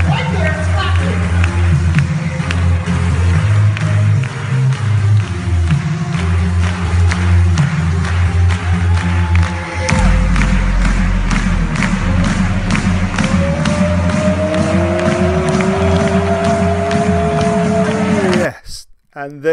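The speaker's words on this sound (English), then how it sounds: "Listen right there, it's clapping." An event audience claps and cheers as a guest is welcomed to the stage, a loud continuous crowd roar with a voice over a speaker system and some music, ending abruptly.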